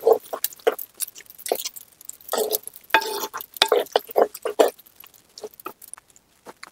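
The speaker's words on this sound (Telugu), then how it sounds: "ఆనియన్స్ మొత్తం బాగా వేగిపోయాయండి" Onions frying in hot oil with cinnamon, cardamom, cloves and green chillies, giving close, uneven stirring scrapes and bursts of sizzle in a pan that come and go throughout.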